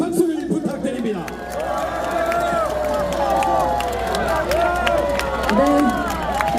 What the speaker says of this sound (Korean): 여러분 다시 한번 큰 박수를 부탁드립니다